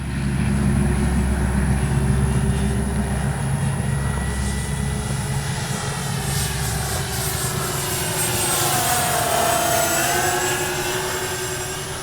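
An RC B-25J warbird scale model airplane flies past, its twin propeller engines droning steadily with a rising and falling pitch sweep as it passes near, loud and continuous throughout with no talk.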